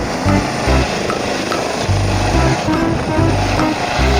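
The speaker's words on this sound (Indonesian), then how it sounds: "Yang ini ada helikopter militer." Toy military helicopter sound effect playing steadily and fairly loud, a continuous rotor-like whir with a pulsing low beat throughout, no talking.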